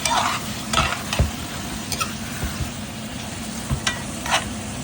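Chicken pieces for tinolang manok sizzle and brown in a pan while being stirred, with close, crackling frying broken by several sharp scrapes and knocks of the utensil against the pan.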